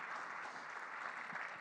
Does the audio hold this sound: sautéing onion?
no